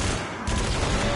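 A brief, dense burst of rapid gunfire in a PS4 video game, loud and continuous, with a sharp surge partway through.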